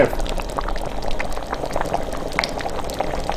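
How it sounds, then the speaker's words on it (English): Broth ladled into a hot pan for chicken à la king bubbles and sizzles loudly and close, a dense continuous rush of liquid with no talk over it. "and get some broth. And get it in there."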